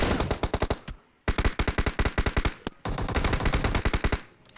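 Rapid automatic gunfire in a shooter video game, fired in three long bursts of evenly spaced loud shots with brief pauses between them, no voices over it.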